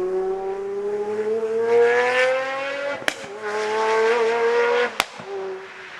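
A Pagani Zonda R race car engine roars loudly as it revs up through the gears, with rising howling pitch, sharp cracks at each upshift, and renewed climbing wails.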